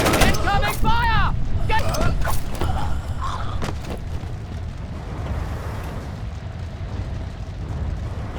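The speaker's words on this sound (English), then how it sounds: "Incoming fire!" Gunfire in the stealth video game Splinter Cell Chaos Theory, a burst of sharp shots and booms at the start that fades into a rumbling, noisy battle backdrop, with voices talking over it.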